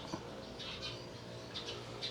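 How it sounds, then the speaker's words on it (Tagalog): House sparrows chirp around a sunny home at midday, a few scattered tweets standing out over a steady, busy background hum. "Sarap pakinggan ng mga huni po ng ano, ibon, maya."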